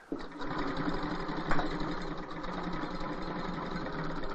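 A sewing machine runs at a steady, even whir, close but fairly quiet, with no talking over it.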